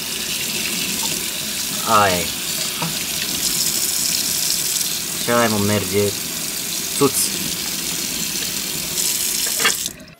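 Tap water runs steadily onto a smartwatch held beneath a sink faucet, a constant hiss of flowing water throughout while people talk over it with short exchanges.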